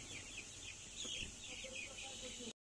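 Poultry chicks about five days old cluck and peep in a shed while being given Gumboro vaccine in drinking water, a steady chorus of overlapping chirps and clucks throughout, fairly close, cutting off abruptly near the end.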